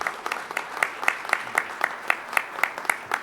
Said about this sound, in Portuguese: quero uma salva de palmas a vocês por estar aqui essa tarde